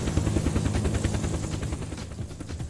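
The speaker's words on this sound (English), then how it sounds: "Helicopters are so loud, man." A helicopter in the video game Unturned makes a loud, continuous rotor drone with rapid rhythmic chopping pulses throughout, heard alone with no talk.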